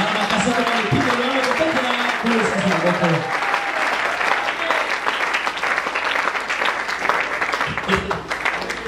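Church congregation applauding and cheering during a French-language sermon, a dense, steady wash of clapping and crowd noise, with a voice speaking over the opening seconds.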